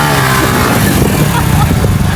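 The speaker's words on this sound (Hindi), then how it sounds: "एक और मोटरसाइकिल आंदा पे सामने" A motorcycle engine runs steadily and loudly throughout, a continuous rumble as the bike travels along, with no clear pass-by swell.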